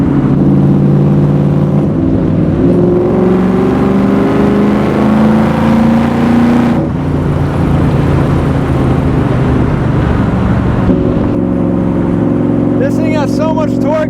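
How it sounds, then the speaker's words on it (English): Engine of a Superformance Shelby Cobra under way, a loud continuous drone that shifts pitch as it pulls through the gears, with someone talking over it throughout. "This car feels like you're strapped to an engine and there's not much else to it."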